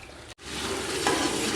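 Water pours steadily off moong dal that has been soaking, a close, continuous rushing splash that breaks off briefly near the start and then resumes.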